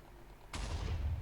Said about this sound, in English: There goes the bombs.